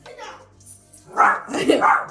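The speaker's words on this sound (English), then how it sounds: "My mom's dog is upset about the blow dryer, y'all." A small house dog barks and yips in short bursts, upset by a Conair Super Bird blow dryer running nearby, heard close and mixed with speech.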